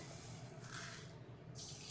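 Water runs and splashes steadily into a container of sugar for syrup, a continuous close pouring sound with no voices.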